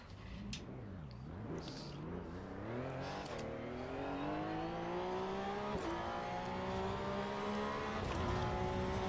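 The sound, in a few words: race car engine in Assetto Corsa EVO video game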